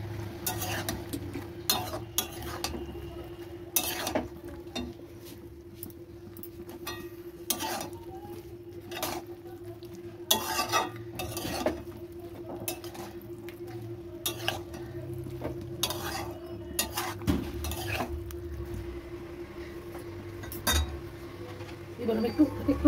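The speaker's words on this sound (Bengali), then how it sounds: "সব সয়াবিনগুলো দিয়ে দিলাম। দিয়ে এটাকে ভালো করে মিশিয়ে নিতে হবে।" Soybean chunks being stirred in a pan for chili soybean, with steady scraping and clinking of a utensil against metal recurring throughout, mixed with soft sizzling and a voice talking over it.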